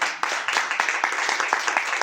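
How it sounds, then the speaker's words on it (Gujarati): Audience clapping at a product presentation event, a steady patter of many hands applauding together at moderate distance with no voices over it. "આપણે ડૉક્ટર સાગર જોશી સર માટે ફરીથી જોરદાર તાળી"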